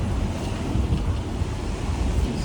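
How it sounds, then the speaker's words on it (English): Strong, constant wind rumbles and buffets a microphone outdoors in Haarlem, a dense low roar with no pauses and no voices throughout. "windy right now."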